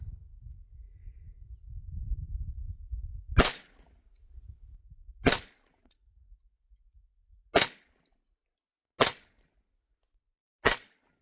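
Five sharp, loud pistol shots from a Ruger Mark IV 22/45 .22 handgun fired outdoors at a golf ball target, spaced irregularly about one to two seconds apart after a stretch of low rumbling wind noise.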